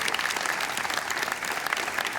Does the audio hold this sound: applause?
yes